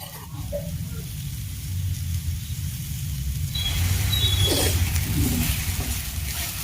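Grated fresh coconut sizzles softly in a pan with sugarcane jaggery, a low steady frying hiss with faint stirring scrapes, close and quiet throughout.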